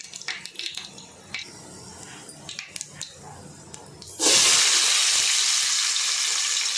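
Chopped onions hit hot oil already seasoned with mustard seeds, cumin and fenugreek for a Nellore-style fish curry, bursting into a loud, steady sizzle that holds to the end after some quieter pan sounds and clatter.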